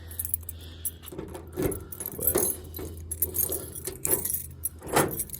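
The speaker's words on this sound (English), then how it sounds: "these are the 3 keys that came with it" Three keys for a 1995 Ford F-350 7.3L Powerstroke 4x4 jangle and clink together close by in irregular metallic bursts, with a low steady hum beneath and a brief spoken word.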